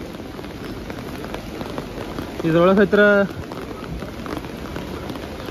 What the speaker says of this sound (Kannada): ಮಳೆ ಒಂದು ಭಾಳ ಜೋರು ಐತಿ